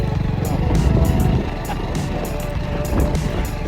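A motorcycle ridden along a rural route on a farm-area day trip, its engine droning steadily and close with a rough, throbbing rumble, while wind and road noise wash over it; no clear talk.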